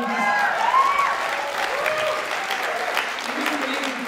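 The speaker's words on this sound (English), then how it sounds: "Can we give her a round of applause there?" An audience applauds after a samba dancer's performance, moderate steady clapping with cheering and voices woven through.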